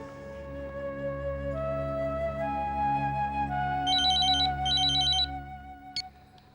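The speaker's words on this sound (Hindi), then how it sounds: "मैं फोन कर रही हूँ।" A telephone rings during a household scene in a TV drama, playing a clear electronic melodic ringtone with stepping tones and a brighter chiming burst near the end, close and steady, with no voices.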